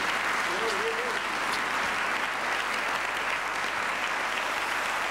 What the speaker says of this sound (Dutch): En van de zalen geweldig applaus.